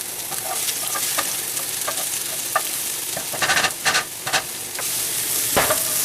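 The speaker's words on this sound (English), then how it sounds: "Now we're going to stir around the onions." Onions frying in a pan for spaghetti meat sauce, stirred around: a steady close sizzle with a series of sharp scraping and clicking spoon strokes, alone with no talk.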